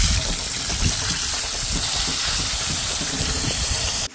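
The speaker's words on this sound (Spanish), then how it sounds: "Colocamos a calentar aceite y enseguida agregamos las chuletas." Pork chops fry in hot oil, giving a loud, continuous hissing sizzle that holds steady close up and stops abruptly at the end, with no talking.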